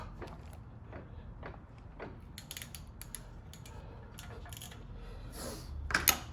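A wrench tightens a bolt on the brake of a 2014 Maserati Ghibli Q4 during a rotor and pad job, giving light ratcheting clicks and metallic taps over a low background hum.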